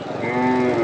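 A cow at a busy cattle market gives a single close, drawn-out moo that swells and holds for under a second.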